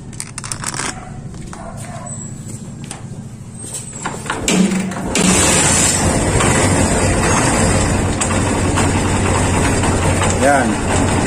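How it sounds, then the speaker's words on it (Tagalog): A noisy vehicle engine with a grinding sound starts up partway through, after clattering handling sounds, then idles with a steady, loud, rough drone while someone talks over it. "Parang ginigiling yung kanyang makina."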